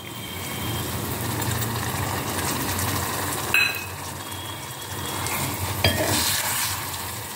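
Onions and tomatoes sautéing in a pan for chena masala gravy, a steady, close sizzle with scraping stir strokes and a couple of sharper clinks, no voices.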